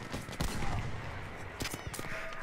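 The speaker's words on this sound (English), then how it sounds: "I hit the Higgins with my Panzerfaust" Explosive Panzerfaust blasts and gunfire in a Battlefield V Pacific battle, with a rocket hitting a Higgins landing boat; several sharp booms and crackling shots ring out over continuous loud combat noise.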